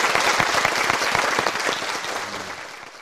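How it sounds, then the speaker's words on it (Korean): A church congregation at a Sunday sermon breaks into loud applause, a thick wash of many hands clapping nearby that gradually tapers and fades toward the end, with no talking over it. "여러분 큰 박수로 맞이해주십시오"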